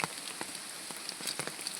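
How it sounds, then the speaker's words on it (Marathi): Rain falling steadily in a Konkan village during the Ganesh Chaturthi festival, a dense close hiss with scattered sharper drops hitting surfaces, with no talk. "आताच पाऊस चालू झालो हा"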